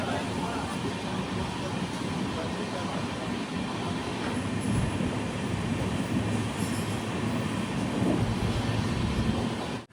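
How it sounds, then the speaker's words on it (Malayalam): The Kannur–Yesvantpur Express rolls into Koyilandy railway station with a continuous heavy rumble of wheels on rails, steady and loud, and faint squeals run through the noise. "ആറ് 55 ട്രെയിൻ ഇപ്പോൾ കൊയിലാണ്ടി റെയിൽവേ സ്റ്റേഷനിലേക്ക് ഇതാ എത്തുകയാണ്."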